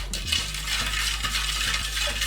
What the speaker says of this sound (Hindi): बलून स्पून है, इससे हम मिक्स करेंगे धीरे धीरे।